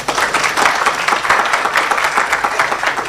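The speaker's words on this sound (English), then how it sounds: "Let's give them a round of applause." An audience at a stakeholder conference applauds a panel, a dense, steady wash of many hands clapping close by for about three seconds with no talk over it.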